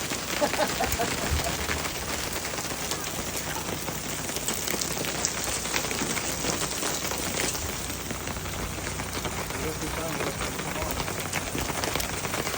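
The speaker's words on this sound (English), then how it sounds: "this is the first time I've ever seen hail" Dense, steady clatter of hail pelting hard surfaces, a continuous loud drumming patter with no pauses.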